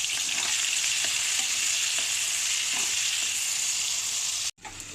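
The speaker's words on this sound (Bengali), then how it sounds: "পেঁয়াজগুলো ভালো করে ভেজে নেব।" Onions fry loudly in hot oil with whole garam masala, bay leaf, cardamom and cumin for a country chicken and jackfruit curry, a dense continuous sizzle with faint stirring ticks, close up, cutting off abruptly near the end.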